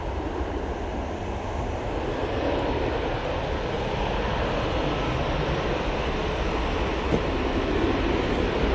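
An EasyJet airliner departing Manchester Airport for Catania makes a continuous, loud, broad jet roar that holds steady and slightly swells throughout.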